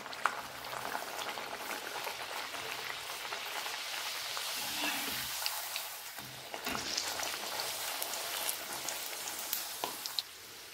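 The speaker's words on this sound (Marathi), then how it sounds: "आता यात मी ठटुले तळायला" Thatula dough pieces deep-fry in hot oil in a kadhai, giving a dense, continuous bubbling sizzle with occasional sharper pops and clinks, heard up close.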